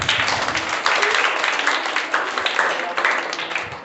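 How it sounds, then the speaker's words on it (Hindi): Children in a classroom clap for two classmates, dense applause lasting throughout at a moderate level. "दोनों बच्चों के लिए जोरदार ताली।"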